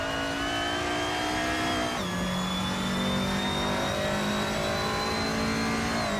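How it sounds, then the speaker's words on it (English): A 1980 Lotus Esprit Turbo races in a video game. Its engine holds a steady, close drone, dips briefly as it shifts gear, then climbs slowly in pitch again. "Lian Yashin is driving a 1980 Lotus Essex Turbo Esprit"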